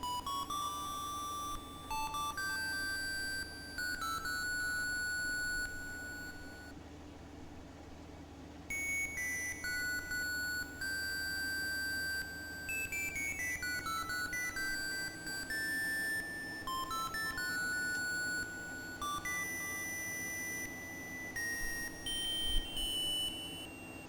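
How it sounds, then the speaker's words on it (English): A video game character sings in a beeping voice, with a long run of high electronic tones stepping up and down in melodic phrases, broken by brief pauses, over a soft background hum. "Her voice sounds like Beeps."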